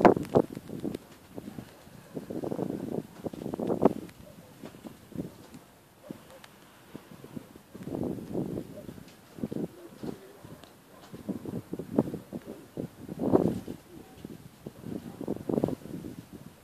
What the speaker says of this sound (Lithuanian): pučia stiprus vakarų vėjas